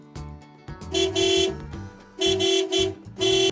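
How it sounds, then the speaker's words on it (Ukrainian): Car horn sounding in a kindergarten movement game, a few loud bursts of honking in a repeating pattern, toots separated by short pauses, close and clear. "Чуєте, що це? та це ж автомобіль."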